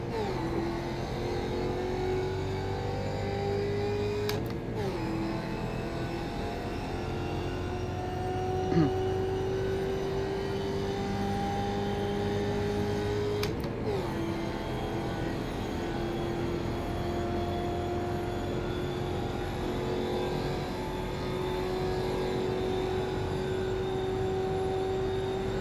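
A race car in the iRacing sim driving around the practice track before the Roar Before the 24, with a steady engine drone rising in pitch, and the note dropping sharply under braking twice.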